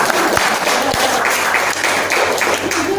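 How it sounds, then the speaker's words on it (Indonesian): Loud, close audience clapping in an Indonesian gathering, dense and steady with a few thumps, while voices and cheering sound over it. "Tepuk tangan dong, luar biasa."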